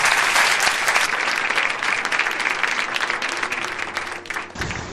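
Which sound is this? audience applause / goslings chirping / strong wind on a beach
audience applause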